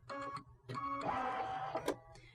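A Solaris embroidery sewing machine trims its thread and moves its carriage out of the way. Soft, close motor whirs come in short mechanical bursts, joined by a brief snip-like click near the end.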